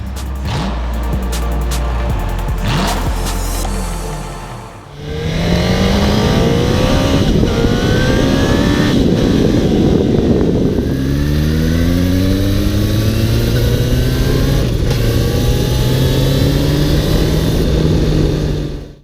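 A 2019 Suzuki Katana motorcycle engine fires up and revs hard in a car park, rising and falling through several throttle blips, loud and close with no talk over it.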